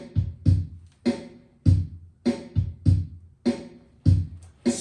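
A basic eight-beat drum pattern at tempo 100, with a cymbal and snare, plays alone as steady loud hits with regular rhythm and no talk over it.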